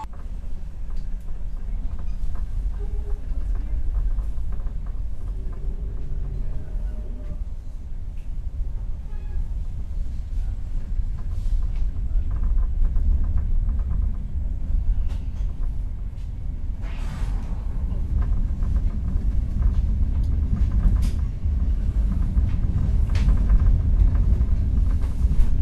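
A Gumarang passenger train rolls along after leaving Pasar Senen station, a continuous low rumble heard from inside the carriage with faint rattles and occasional squeaks rising gradually louder.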